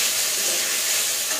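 Onions and diced tomatoes sauté in a pan for Turkish turşu aşı soup, giving a close, steady, even sizzle with no break.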